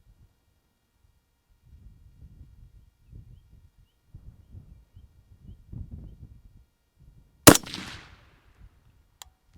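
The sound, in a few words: rifle shot while zeroing scope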